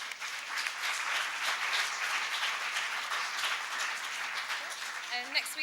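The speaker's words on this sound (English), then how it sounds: "A round of applause." Sustained audience applause at a 2014 Hallam Award ceremony, steady and dense clapping filling the whole stretch at a moderate level, with a brief voice surfacing near the end.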